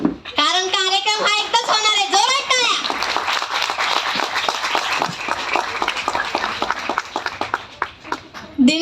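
A crowd at a joint birth-anniversary celebration of great leaders on Tadiwala Road bursts into sustained, dense clapping after a voice's opening words, the applause filling the rest of the clip at close range.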